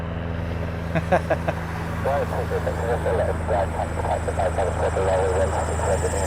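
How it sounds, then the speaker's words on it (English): A Piper propeller plane climbing away at an air base, its engine drone steady and moderately distant beneath someone talking over it almost throughout. "we've got the Piper going up again"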